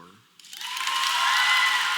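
Applause from a convention hall crowd at a PAX Prime 2015 panel swells in quickly after a brief voice and builds to a broad, sustained roar of clapping.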